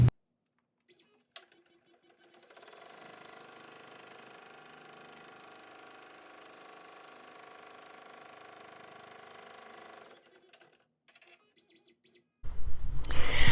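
An embroidery machine sews a tack-down stitch on face mask fabric in the hoop: a steady, close mechanical whir runs for about seven seconds between quiet stretches, with a sudden loud burst of noise at the very end.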